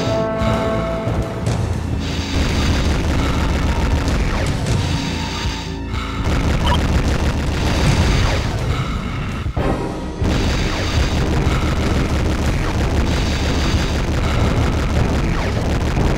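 Dense booming explosions and crashing blasts from the space shooter Bang! Gunship Elite on the Sega Dreamcast, loud and continuous, layered over game music with brief dips in between.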